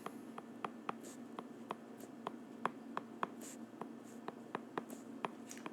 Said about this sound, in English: now if we sketch this out